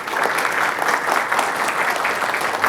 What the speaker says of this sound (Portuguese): esse é uma salva de palmas